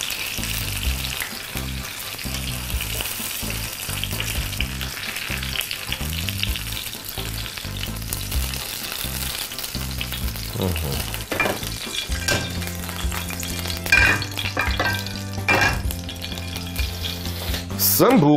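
Food sizzles steadily in a hot pan as it fries on both sides, a loud, continuous crackle with occasional sharper pops and stirring clatter, with no voices.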